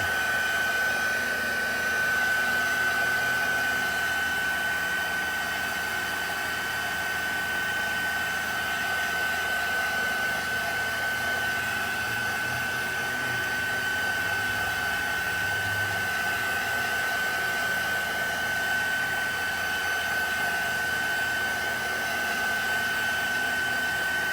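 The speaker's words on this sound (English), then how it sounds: "I speed mine up with my heat tool" A heat tool blows continuously for about 24 seconds, drying watercolor paint with a loud, steady whooshing hum that never pauses.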